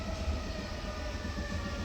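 Steady rumble of a Vancouver SkyTrain in motion, heard from inside near the front window, with continuous low-frequency drone and faint tonal hum running evenly throughout, no voices.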